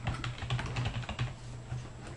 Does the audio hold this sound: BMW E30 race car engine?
no